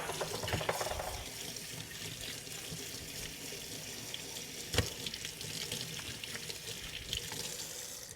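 Tap water runs steadily into a kitchen sink while an object gummed with sticker residue is washed. The stream is close and continuous, with occasional splashes and knocks, and there is no speech.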